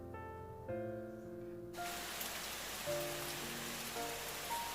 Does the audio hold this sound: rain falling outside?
yes